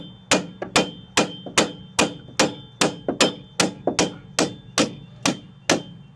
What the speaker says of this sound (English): I'm gonna keep it nice and flat with the bolt so I can tap them